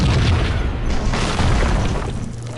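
An explosion in the video game Max Payne: a loud, sustained booming roar fills the whole moment, heavy and close, with no talking.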